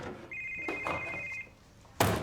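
A telephone in a TV comedy rings with a steady electronic trill, heard moderately close over quiet room tone, followed by a sharp louder thump at the end.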